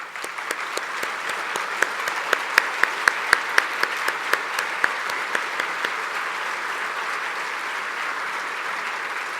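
Church congregation applauding, a steady wash of clapping with a few distinct nearby claps standing out early on, fading slightly toward the end.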